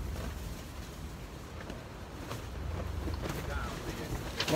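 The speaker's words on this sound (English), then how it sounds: "it's pretty windy." Steady rumbling wind buffeting the microphone throughout, loud and continuous with faint background noise.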